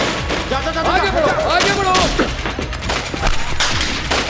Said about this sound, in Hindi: गोली चलाओ, गोली चलाओ, गोली चलाओ।